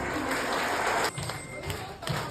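A group claps together during a wedding rehearsal, a dense burst of applause for about a second before it thins into scattered claps and soft thumps.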